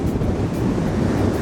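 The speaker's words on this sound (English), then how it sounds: "Wow, it's really windy." Strong wind buffets the microphone with a low, rumbling roar, mixed with the steady wash of surf nearby, at the coast in the Heritage Bay area.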